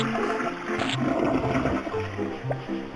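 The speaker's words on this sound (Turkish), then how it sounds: "sifona basıyoruz" Toilet flush in a children's cartoon bathroom scene, a steady rushing swirl of water lasting a few seconds over soft background music, with no speech.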